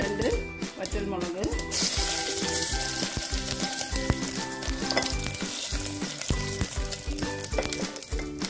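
Oil and ghee sizzle loudly and continuously in a pressure cooker, with bubbling crackle and spatter close by. Voices talk over it.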